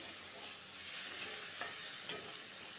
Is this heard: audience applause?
no